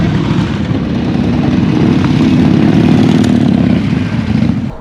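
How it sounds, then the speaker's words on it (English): Several motorcycles ride past on a scenic country road of the Ardennes Spa Classic loop, a steady loud engine roar that swells and holds for the whole stretch with no talk. "Whilst I've been here, there's been loads of bikers coming by."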